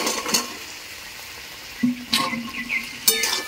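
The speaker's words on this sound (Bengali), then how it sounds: "ভালো করে মশলার সঙ্গে কষিয়ে নেব" Boiled peas and potatoes stir-fried with spices in a pan give a soft sizzle, broken by a few scraping stirs and light clinks of a utensil against the metal.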